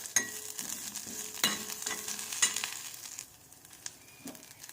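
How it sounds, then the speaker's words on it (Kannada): Ghee frying in a pan while cooking a drumstick-leaf tambuli, heard as a quiet sizzle broken by sharp scraping stir strokes at irregular intervals, with no talking. "ತುಪ್ಪ ಹಾಕಿ ಚೆನ್ನಾಗಿ ಹುರ್ಕೋಬೇಕು."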